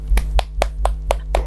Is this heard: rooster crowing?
no